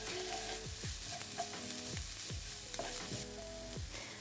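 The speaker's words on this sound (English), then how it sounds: "I've got some peeled garlic here and I'm just going to grate this straight into the pan" Freshly grated garlic sizzling in a hot pan, a steady close frying hiss broken by repeated scraping strokes as the garlic is stirred, with no voices.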